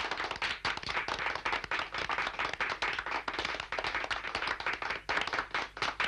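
Loud, fast rhythmic clapping by a small group in a martial-arts film scene, close and insistent, with steady pulses of hands striking together and no talking over it.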